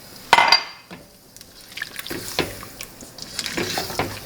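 Water pours into a pot of potatoes with a short splashy gush, followed by scattered clinks and light stirring sounds of a cookware setting, close and fairly quiet, with no voices.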